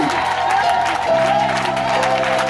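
A church congregation applauds and cheers for Jesus at a Sunday morning service, a steady loud wash of clapping and crowd noise running throughout alongside sustained voices.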